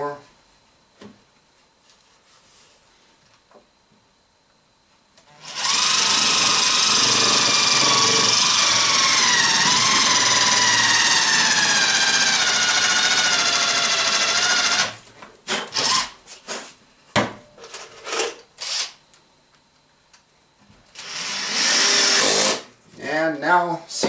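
A battery-powered drill drives screws into a wooden ammo box, whining loudly and steadily for about ten seconds, then breaking into several short, uneven bursts and a final run of drilling.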